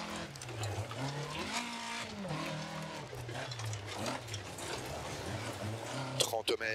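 A damaged rally car in a racing video game drives without headlights, its engine whining and shifting pitch continuously while a person talks over it, with a brief rattle near the end.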